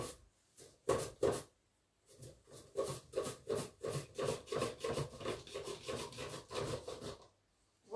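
An onion held on prongs is minced with a manual chopper, producing a close run of quick, rhythmic scraping strokes, about twenty in a row after a few separate ones, with no talking.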